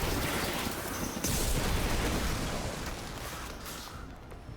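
Explosion in the video game Marvel's Midnight Suns, a loud, dense burst of crackling noise that fills the whole clip and slowly decays, with no voices.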